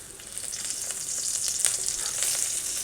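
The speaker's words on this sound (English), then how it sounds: "I don't want this garlic to fry too much, just a little bit." Garlic frying in a pan, a steady bright sizzle with small crackling pops, close and continuous with no talk.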